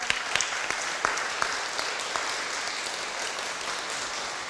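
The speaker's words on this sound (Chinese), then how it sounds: "来拍手欢迎她。" A church prayer-meeting congregation claps to welcome a newcomer, a dense burst of close applause with a few sharp individual claps standing out, held steady throughout.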